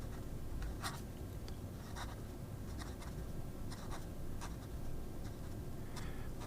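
Nib of a Scribo Flow Armonia fountain pen scratching across paper, a faint, close, continuous writing rasp with irregular short strokes and ticks over a steady low background hiss, with no voices.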